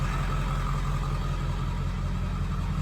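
A Ford F-250 pickup truck engine running loud and close with the emergency brake on, a steady low rumble held at high revs throughout.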